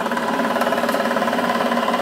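A milling machine cutting a bench vise handle, feeding the table in and out: a steady, loud mechanical whir and chatter that runs unbroken and close throughout.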